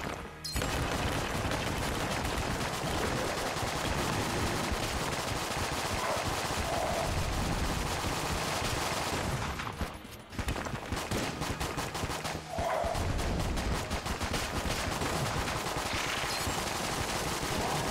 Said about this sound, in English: high frequency of shots we can put out there